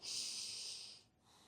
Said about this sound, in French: On prend une longue respiration.